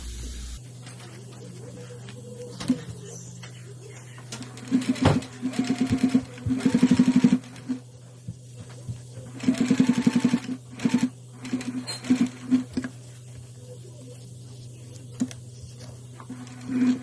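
Sewing machine stitching along the top edge of an embroidered Wonder Woman face mask, several rapid bursts of whirring, needle-clattering stitches separated by pauses, over a steady low motor hum.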